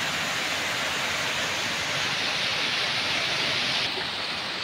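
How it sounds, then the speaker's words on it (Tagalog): Heavy rain falls on a farm, a dense steady hiss of downpour that stays loud and unbroken throughout, with no voices. "malaking tulong din to sa atin tong ulan"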